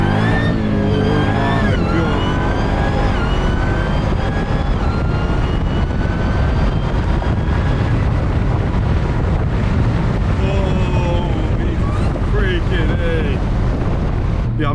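A 1000 HP Dodge Durango Hellcat accelerating hard in first gear, giving a loud, roaring engine with rapidly rising pitch, heard from inside under heavy wind noise, with voices talking over it in places.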